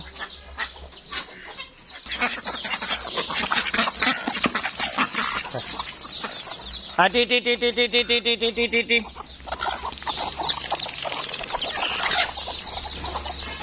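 Chickens, including Brahmas, cluck and chatter steadily around a spot scattered with corn meal feed, with a burst of loud rhythmic calling midway and faint wing flaps, no talking.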